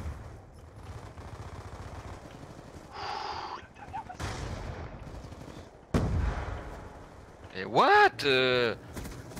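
Gunfire in Black Ops II multiplayer, a few scattered shots and short bursts amid game noise, with a player's voice and exclamations over the action.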